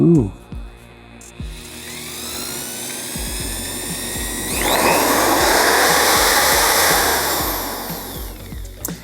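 An electric car polisher whirs up, its pitch climbing to a loud, steady high-speed whine before easing off, with clunks and handling noises throughout.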